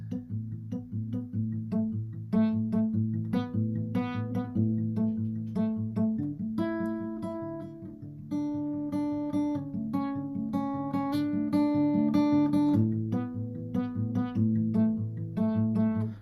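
An acoustic guitar strums and picks through open, ringing major add9 chords, alternating between two shapes in a relaxed steady rhythm with no voices.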